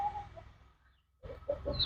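A Brahma chicken clucks close by in short bursts, pausing for a moment of near silence before a few more quick clucks.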